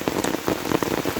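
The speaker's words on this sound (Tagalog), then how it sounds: "Talaga lumalakas ang ulan." Heavy rain pouring down in a rural countryside setting, a dense, loud, close hiss of drops drumming on surfaces with no pause and no voices.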